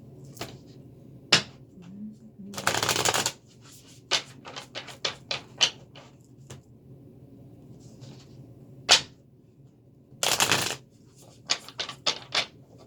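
Bursts of riffling card noise come in two dense flurries, with scattered sharp taps and clicks in between, fairly close and with no talking.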